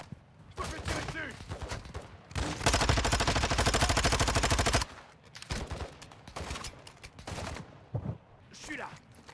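Rapid automatic gunfire in Call of Duty Warzone DMZ, a sustained loud burst in the middle flanked by scattered shots and game noise, with someone talking in French under parts of it.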